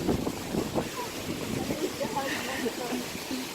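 Rough Lake Michigan waves crashing and splashing over the walls by a lighthouse, a broad steady wash of water and wind noise over the microphone, with people talking faintly.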